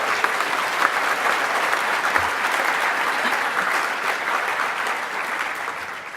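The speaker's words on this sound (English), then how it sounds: "it's okay, we can applaud." A conference audience at Wikimania 2017 breaks into applause for a fellowship announcement, a full, even wash of many hands clapping throughout, loud and sustained, fading a little at the close.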